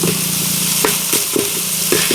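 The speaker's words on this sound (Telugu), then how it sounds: "ఉల్లిపాయలు అనేవి మాడిపోకుండా కాస్త ఎరిపెక్కే వరకు వేపుకుందాం" Sliced onions with green chillies frying in an outdoor village pan, a steady loud sizzle with a few sharp scrape and stir clicks throughout.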